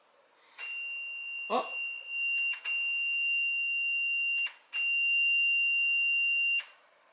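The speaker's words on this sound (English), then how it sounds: "hear all that beeping? That's the power going off." Steady electronic tones from devices in a farmhouse beep continuously in long stretches as the power goes out, broken by a few short clicks and gaps, loud and nearby with no speech.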